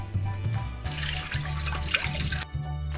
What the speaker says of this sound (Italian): Aggiungiamo l'acqua fino a che si copre completamente.